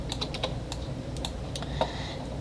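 Keyboard keys pressed on a computer while modeling a hallway scene in Blender, several crisp separate clicks at an uneven rhythm, close and distinct over a quiet background hum.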